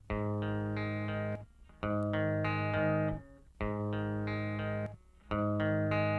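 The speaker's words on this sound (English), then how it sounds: "So I'm gonna play this broken up." Distorted electric guitar plays sustained chords in four rhythmic phrases, each ringing out before short pauses, with no one talking.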